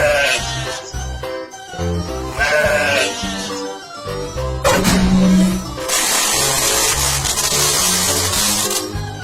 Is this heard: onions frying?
no